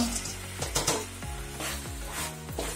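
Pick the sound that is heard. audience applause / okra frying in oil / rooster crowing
okra frying in oil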